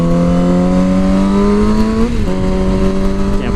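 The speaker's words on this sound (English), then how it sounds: "So I have an M4 mid-pipe and then the GYTR slip-on. Sounds really, really good." A 2007 Yamaha R6 motorcycle with an M4 mid-pipe and GYTR slip-on exhaust drones loudly on a highway, a steady high-pitched engine note that dips briefly mid-way as revs shift, then carries on.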